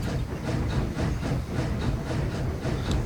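The Mastodon steam locomotive in RailRoads Online runs with a steady low rumble and faint hissing, soft rhythmic clicking of the wheels on the rails, continuous and fairly close.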